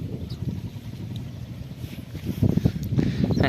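Steady wind rushing across the microphone in an open mung bean field, gusting louder toward the end, with a low rumbling buffet throughout.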